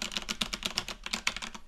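Steady, close typing on a GameSir GM100 mechanical keyboard fitted with red Cherry switches, a rapid run of crisp, evenly spaced key clacks with no talking.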